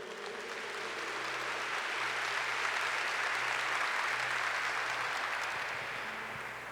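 A church congregation at a Catholic Mass breaks into sustained applause, a dense, even roar of many hands clapping that holds steady for several seconds without speech.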